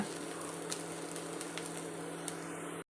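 Green chillies sauté in a hot pan, giving a steady close sizzle with a low hum underneath and a few faint spatula scrapes, ending abruptly.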